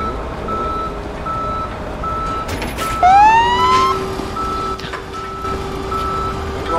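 A tow truck's reversing alarm in a police simulator video game sounds a steady repeating electronic beep under a rising whistle-like tone, with continuous engine and ambient game noise around it.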